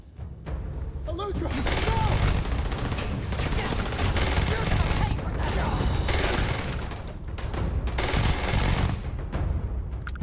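Rapid sustained automatic gunfire in Starfield, dense and loud almost continuously with a brief lull, heavy low rumble beneath the shots, and some speech under the firing.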